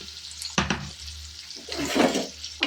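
Onions frying in a pan for mint pulao give a soft, steady sizzle, broken by a couple of sharp clinks and stirring scrapes.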